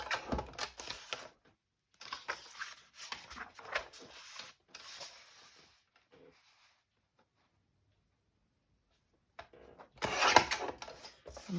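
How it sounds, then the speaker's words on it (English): Cardstock being cut down to size for papercraft: several bursts of short scratchy, tapping cuts close by, a long quiet pause, then one last brisk burst. "So I'll cut that down."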